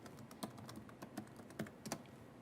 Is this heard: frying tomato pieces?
no